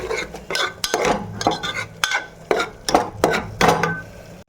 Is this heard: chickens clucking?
no